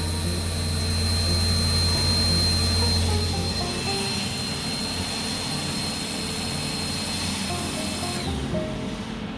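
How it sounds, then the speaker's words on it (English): Air turbines on an EFWF 2000 weigh filler spin up with a steady, loud jet-like whine and broadband rush, holding throughout before the high tone drops and shifts near the end, with no voices. "You can hear the air turbines going on."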